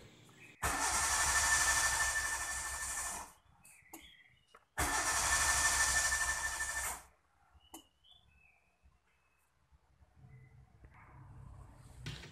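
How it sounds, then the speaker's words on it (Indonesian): A Kia Visto car engine cranking with difficulty, two long loud starter bursts of about three seconds each separated by a pause, followed by quieter clicks and faint rumbling without a clean start. "ini mobil di starter sangat sulit sekali teman-teman"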